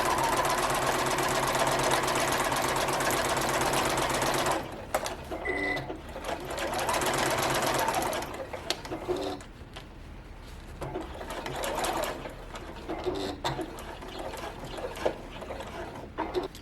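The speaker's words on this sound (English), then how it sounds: "now we are going to sew up the side of the liner" A sewing machine stitches the side seam of a handbag liner, a loud steady whirring run for several seconds, then shorter bursts and pauses with light mechanical clicks as the seam is back-stitched and finished.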